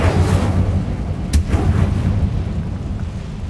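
Incendio fire spell cast in Hogwarts Legacy, a loud whooshing burst with a sharp crackle near the middle, over a rumbling low roar that fades out.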